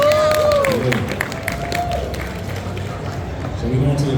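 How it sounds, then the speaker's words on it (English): An audience applauds throughout a panel session on cosplay and content creation. The clapping stays steady and fairly loud, with a voice heard over it. "Give him a round of applause, you guys."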